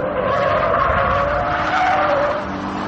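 A BMW on run-flat tyres skids around a race track, with a sustained loud tyre squeal and engine roar that hold steady for nearly three seconds before easing slightly at the end.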